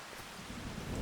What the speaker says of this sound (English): The rain is just starting to end.